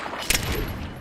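A 9mm submachine gun in the video game Fallout New Vegas fires one sharp, short burst, loud and close, over a steady hum of game background.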